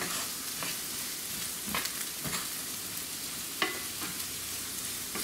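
White onions sweat in a pan with an even, close sizzle, punctuated by several sharp stirring scrapes and one louder knock, with no voices.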